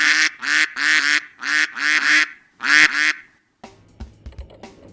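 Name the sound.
duck quacking sound effect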